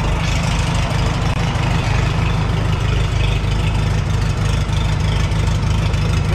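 A Farmall H tractor engine idles in a workshop after oil pan work, a loud, steady low chugging throb that runs throughout with no talking.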